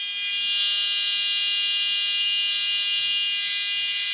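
Steady high-pitched electronic tone from a signal sender circuit with a potentiometer-set frequency, a continuous whine at constant level for several seconds with no talking and only faint background hiss.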